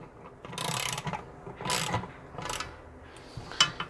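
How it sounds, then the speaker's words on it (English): Hand ratchet tightening a bolt on a 2005 Mercedes-Benz E55 AMG during replacement of a faulty siren, giving three close bursts of rapid metallic clicking with a final sharp tick. "Give it a little bit of a little overkill on the ratchet"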